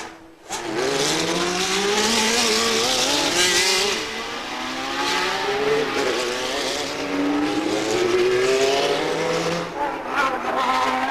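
Formula One cars racing in a qualifying session, with a loud, continuous engine whine that rises and falls as the cars accelerate and shift, close and dense throughout.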